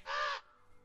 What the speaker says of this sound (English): Pretty bird.